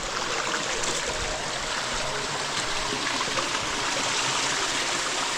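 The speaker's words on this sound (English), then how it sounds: "Some little sideways cascades." Small sideways waterfall cascades at Paradise Falls on Ko Pha Ngan, Thailand, give off a steady, close, full rushing and splashing of water that carries on unbroken throughout.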